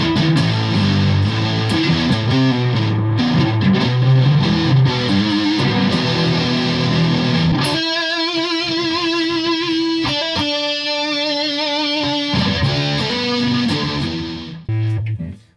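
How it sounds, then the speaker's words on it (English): Squier Sonic Strat electric guitar played with ultra metal distortion and chorus, loud continuous high-gain chords and riffs with sustained ringing notes in the middle before a heavier chugging return. "I'm going to leave the chorus on, and I'm going to try some ultra metal distortion."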